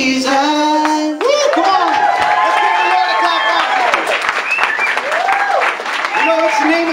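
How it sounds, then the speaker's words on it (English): Church congregation clapping in a dense, sustained burst with cheering voices and shouts mixed in, loud and close throughout. "Let's give the Lord a clap."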